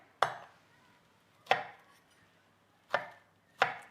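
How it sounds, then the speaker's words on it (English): A knife chops garlic cloves into pieces on a board for Thai crab curry, four distinct, unevenly spaced knocks that are close and fairly quiet. "So we just chop our garlic into pieces."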